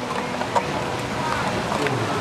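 Outdoor wind buffeting a microphone during a partner demonstration, a steady broadband rumble and rush with faint voices mixed in.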